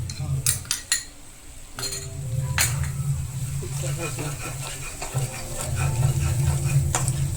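Black masala (dry spice blend) is stirred and roasted in a pan for a dry vegetable dish with mutton, opening with a few sharp metal clinks of a utensil, then continuous scraping and a soft sizzle.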